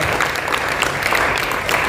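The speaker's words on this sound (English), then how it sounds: "Huge round of applause to everyone who is a part of" Dense, steady applause from an audience at a Bengaluru 10K run event fills the whole stretch as one continuous wash of many hands, loud and even throughout with no voices standing out.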